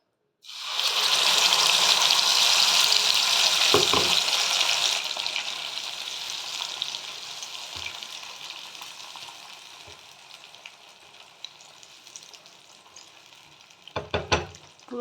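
Coriander leaf paste hits hot mustard oil in a pan with a loud, bright sizzle that slowly fades to a softer crackle, broken by a few sharp clinks and stirring knocks near the end.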